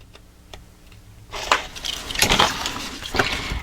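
Scissors cut along a drawn line in paper for a handmade mini album, starting after a quiet moment with close, crisp snipping and rustling bursts that repeat irregularly.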